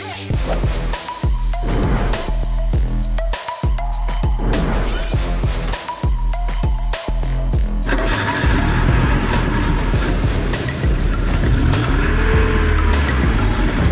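A family car revving hard and pulling away, engine roaring through repeated surges and gear changes with squealing tires, loud and close throughout.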